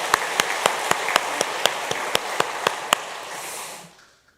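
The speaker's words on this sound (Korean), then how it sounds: "함께 박수하겠습니다" Church congregation at a worship service clapping together in a steady, even rhythm, about a dozen sharp unison claps that stop and leave a brief fading room tail.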